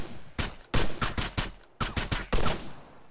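Gunfire in the video game Arma 3, several loud close bursts and single shots in quick irregular succession with brief gaps between, no voices.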